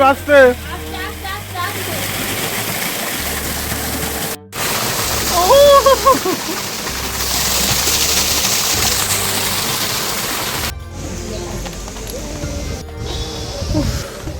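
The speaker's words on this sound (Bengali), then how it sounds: "রক গার্ডেনে ঝর্ণাটা জাস্ট বাউ লেগেছে" A waterfall at Rock Garden in the Darjeeling hills in the rain, heard as a continuous rushing, splashing wash of water under frequent close voices talking, with a few brief breaks in the sound.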